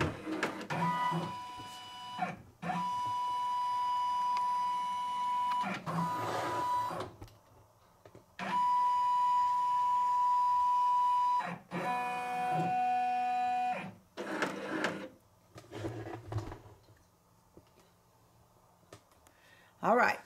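A Brother PR1055 multi-needle embroidery machine moves its frame with steady electric motor whirs and tones in several separate runs, interspersed with clicks and short pauses, close by and fairly loud.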